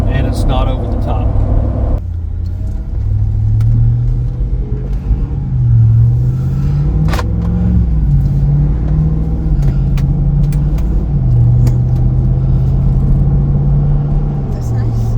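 Jeep Gladiator pickup, set up for overlanding, with a steady low engine rumble while driving, loud and continuous throughout, the pitch rising and falling gently, under people talking.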